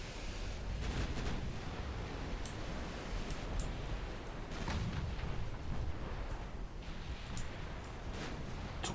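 Naval battle in a video game with 9-inch ship guns firing: a dense, continuous roar of distant booms and rumbling blasts, several sharper cracks scattered throughout, no voices.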